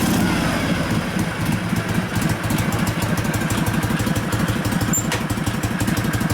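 A 1965 Harley-Davidson Panhead 74ci FLH with a Linkert carburetor idles with a loud, steady lumpy pulse, its low thumping beat close and continuous throughout.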